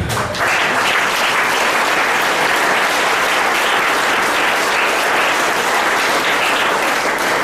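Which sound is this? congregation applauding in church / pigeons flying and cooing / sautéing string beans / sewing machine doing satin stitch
congregation applauding in church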